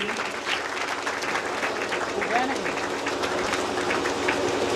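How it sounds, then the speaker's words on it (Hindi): Continuous applause from a seminar audience in a hall, a dense steady wash of clapping holding at an even level throughout. "प्लीज ताली बजती रहनी चाहिए।"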